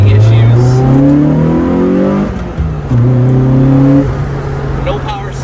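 A track car with a 1.8 liter Toyota engine revs loudly and close, its pitch climbing, dipping briefly, then rising again, with a person talking over it.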